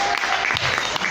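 Audience applause for a duo at a live performance, a brief, steady wash of clapping with a faint murmur of voices.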